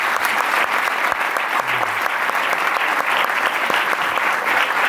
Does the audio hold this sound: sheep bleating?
no